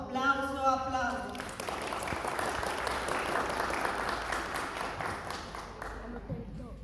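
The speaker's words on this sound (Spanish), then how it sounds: "Aplauso, aplauso, aplauso." Guests applauding at a Guarani wedding ceremony in Luque, a soft, continuous patter of clapping from a moderate crowd that follows a brief voice at the start and fades out near the end.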